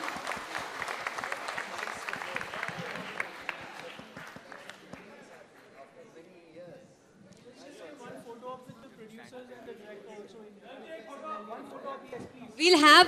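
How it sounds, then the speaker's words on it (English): Applause from an audience at a film trailer launch event rises and fades, mixed with crowd chatter and a speaking voice, ending in a sudden loud burst. "Give them a huge round of applause,"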